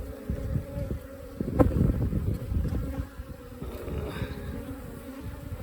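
Africanized honey bees swarm around a hive in Arizona, a dense continuous buzzing hum that stays close and steady, swelling slightly in the middle with no voices.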